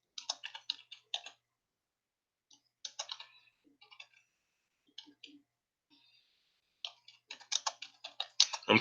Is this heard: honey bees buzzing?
no